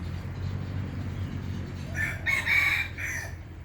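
A chicken calls out for about a second in a garden over a steady low rumble of background noise, fairly close and moderately loud.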